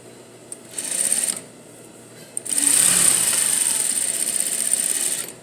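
A sewing machine running an edge stitch along the folded hem of jeans, a brief whirring burst followed by a pause and then a longer steady high-pitched motor run, close and clear with no talk.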